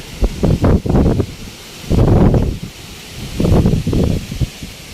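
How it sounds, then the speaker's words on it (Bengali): Strong gusts from Cyclone Rimal sweep across the Padma riverbank, buffeting the microphone in loud, roaring bursts that rise and fall several times over a steady rushing background. "প্রচণ্ড বাতাস এই মুহূর্তে বয়ে যাচ্ছে।"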